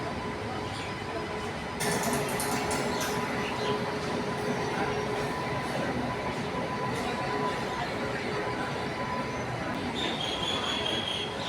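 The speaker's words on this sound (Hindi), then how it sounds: "ये आ रही है एकता एक्सप्रेस" The Ekta Express passenger train arriving at Chandigarh railway station, a continuous rumble of rolling stock with brief metallic clatter and wheel squeal, a faint tone appearing near the end.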